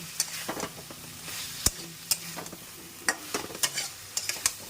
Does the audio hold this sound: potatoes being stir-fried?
yes